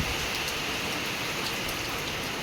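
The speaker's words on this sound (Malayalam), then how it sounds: "ഇവിടെ ഭയങ്കര മഴയാണ്." Heavy rain pours steadily and loudly on a surface, a dense, unbroken hiss with no pauses and no voices.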